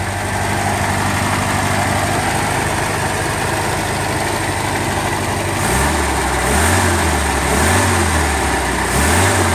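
A 1973 Chevrolet Vega GT hatchback's 2-barrel engine runs steadily through a glass pack exhaust, a loud, close, low rumble that pulses rhythmically in its second half as the revs rise and fall.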